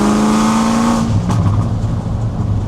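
A car revs hard during a short acceleration pull, engine note loud and close, pitch climbing and then dropping to a lower, rougher drone as it shifts, heard from inside with no talk.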